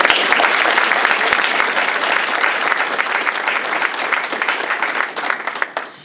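Dense, loud audience applause at a school board meeting fills the room steadily, then thins into scattered claps and fades out at the end.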